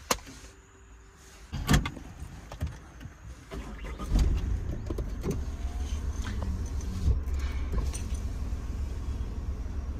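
A car door closes and a power window whirs before the engine starts and settles into a steady idle and low rumble, with clicks and handling noises throughout.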